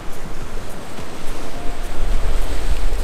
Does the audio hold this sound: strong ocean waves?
yes